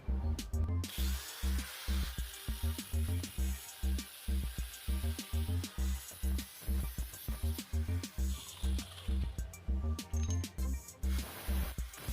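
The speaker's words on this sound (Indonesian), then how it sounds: "Kita potong dulu, kita rapikan, terus nanti kita las." Scrap metal is cut to make a handle, probably with a power tool, giving a close, loud grinding buzz that pulses in rapid repeated strokes through the whole stretch.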